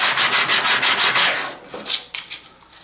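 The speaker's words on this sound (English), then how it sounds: "we're just going to use a piece of 220 grit sandpaper on a flat surface" A jointer part is rubbed back and forth on 220 grit sandpaper laid on a flat surface, giving about eight steady, close scratchy strokes in an even rhythm, then a few shorter, lighter strokes before it stops.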